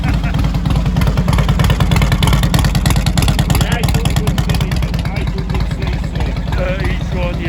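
Nearby Harley-Davidson motorcycle engine idling with a deep, uneven throb and some revving, while people talk over it.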